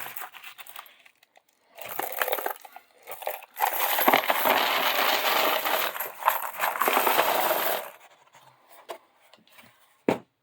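Copper coins poured and dropped into a box, a dense metallic rattling and clinking that swells for several seconds, with scattered single clinks and handling sounds before and after.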